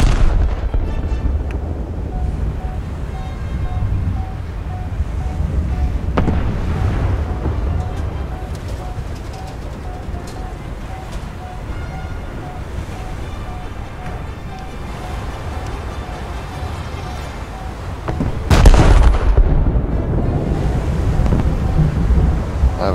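Heavy naval gun salvos boom out in War Thunder, deep rumbling blasts over a constant low roar, with one especially loud, sharp salvo near the end.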